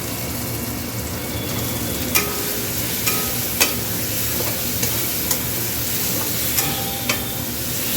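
Eggs being stir-fried in a pan for egg kosha, a steady close sizzle with occasional sharp clicks of a spatula scraping and tapping the pan, no voices.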